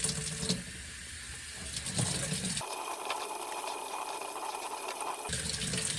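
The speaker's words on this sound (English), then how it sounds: "I want to put a little bit more water in there." Water poured from a tap or jug into a tortoise egg-laying substrate, a continuous close splashing and hissing flow that shifts in tone midway.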